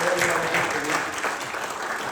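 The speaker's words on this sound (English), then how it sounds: "give a round of applause to the students who have an exam tomorrow" A seminar audience applauds students who have an exam the next day, with a short burst of steady, full clapping from a room of people.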